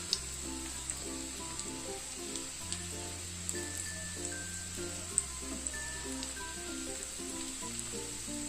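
Egg chops fry in oil with a strong, continuous close sizzle, spattered with small pops and occasional light stirring sounds, under a low steady hum, with no speech.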